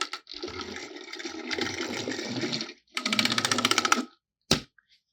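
A Mattel Thomas the Tank Engine toy runs along the track with steady, loud clicking and whirring in two long bursts, then a short sharp clack after a pause.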